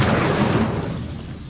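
An Incendio fire spell cast in the video game Hogwarts Legacy, a short, broad whooshing burst that is loud at first, then tails off over about a second and a half.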